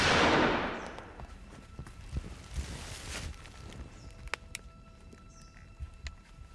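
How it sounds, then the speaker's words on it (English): A loud sharp gunshot crack at the start that trails off, followed by scattered fainter sharp pops and rustling in an outdoor hunting setting. "It sounded like the gunshots came from the cabin."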